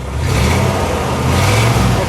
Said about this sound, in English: Dennis, give it a little rev, would you?